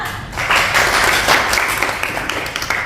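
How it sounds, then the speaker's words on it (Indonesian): A classroom group applauds a student's presentation, steady close clapping from many hands lasting a few seconds without speech. "Beri tepuk tangan dulu untuk Atta."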